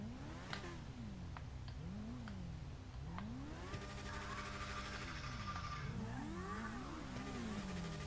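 Car engine in GTA 5 revving up and down repeatedly, rising and falling pitch sweeps over a steady loud drone, with a brief tire squeal and no talk.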